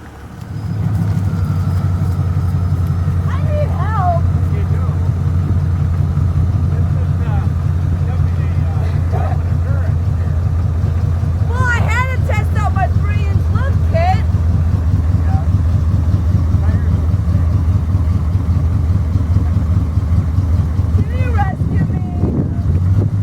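A lifted Jeep with a 3-inch lift kit, stuck in a muddy cornfield during the spring thaw, holds a loud, steady low engine drone with wind buffeting the microphone and a person talking over it.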